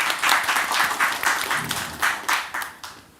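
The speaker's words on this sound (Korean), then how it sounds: "박수 부탁드립니다." Audience applause at a public discussion event with the Korean prime minister, a modest crowd clapping in rhythmic pulses that gradually thin out, moderately distant.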